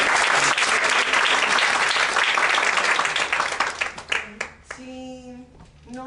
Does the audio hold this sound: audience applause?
yes